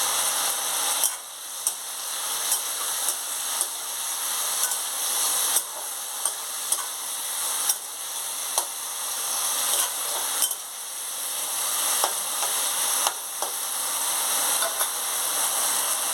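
Spices such as turmeric and bay leaf frying in oil for leftover rice, a steady hiss and sizzle with periodic clinks and scrapes of stirring, close and fairly quiet, without talk.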